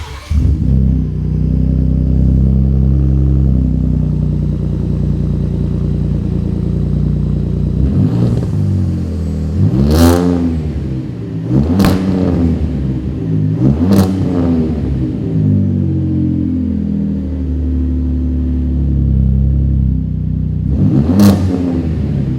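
A Ford F-150 Raptor fitted with a MagnaFlow cat-back exhaust with 3-inch dual split rear exit and 5-inch black tips rumbles at a deep idle, then climbs in four sharp revs and a final blip, loud and close.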